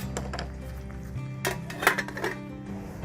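A lid set back onto a cooking pot of crab thokku, a few metallic clinks and a soft clatter close by, with no talking.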